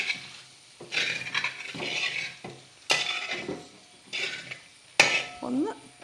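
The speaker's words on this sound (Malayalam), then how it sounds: "അടയൊന്ന് ഇളക്കി മറിച്ച് കൊടുക്കണം." Rice ada stirred and turned in melted ghee in a pan for an Onam sweet, with a few scraping stirring strokes and a soft sizzle coming in repeated bursts, close and fairly quiet.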